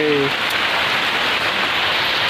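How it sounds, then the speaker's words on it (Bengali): Steady rain falls outdoors in a heavy, even hiss that continues without a break, and a faint voice is heard briefly at the very start. "তো দেখো বাইরে বৃষ্টি"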